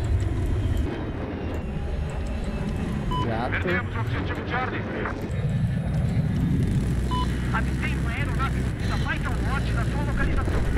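A helicopter in a first-person shooter video game, a steady loud rotor drone lasting throughout and mixed with other vehicle rumble and gunfire, with someone talking in Portuguese over it.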